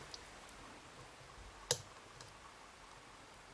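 A single sharp pin click from a Steel Pinning 'Peacemaker' lock being picked stands out once against faint, quiet background hiss.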